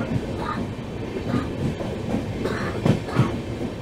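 The Kanchankanya Express, Sealdah to Siliguri, rolling along with a steady rumble and rhythmic clickety-clack of wheels over rail joints, heard from inside the moving train, with faint voices in the background.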